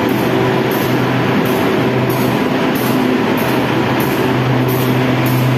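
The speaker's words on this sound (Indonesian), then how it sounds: "Kereta api komuter ini akan berangkat pada pukul 5 lebih 25 menit" A commuter train at Sidoarjo station in early morning, a steady loud rumble with faint rhythmic clicks of wheels over rail joints, no voices heard.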